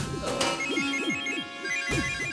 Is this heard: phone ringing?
yes